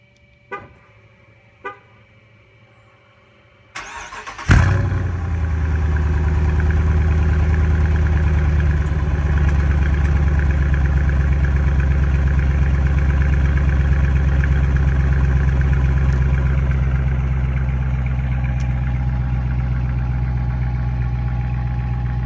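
A 2017 Dodge Charger R/T with a 5.7L Hemi cold-starts after a couple of clicks, bursting into a loud rev, then settling into a deep, steady rumbling idle.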